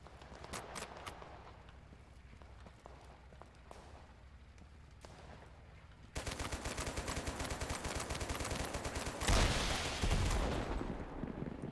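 Gunfire from a .50 cal and RPG in the video game Total Conflict Resistance crackles in sharp bursts, first scattered single shots, then dense rapid automatic fire with a heavier blast near the end, all fairly faint.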